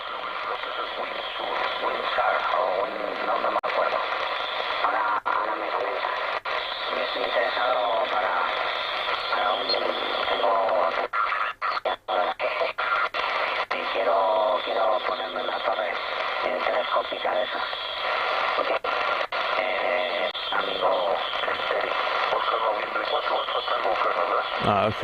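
Shortwave radio reception with a second station interfering close by, a steady band of hiss, warbling tones and garbled broadcast sound running the whole time, with a brief dropout near the middle.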